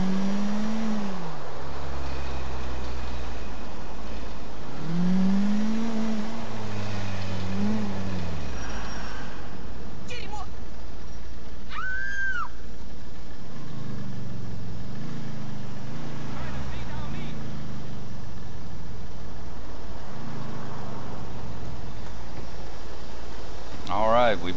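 A damaged car engine in a video game, rough and sputtering, idles and revs unevenly, with a few brief clanks and tones over the low motor drone.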